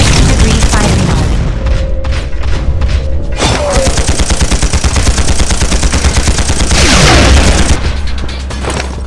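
Gunfire in the iOS game Implosion - Never Lose Hope: dense, loud bursts of rapid automatic shots run continuously with heavy booms and mechanical thuds, without a break.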